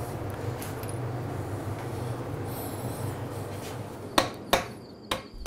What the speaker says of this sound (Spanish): Sigue tallando el artista y tenemos que dejar que en este momento rebusque dentro de las entrañas de la madera.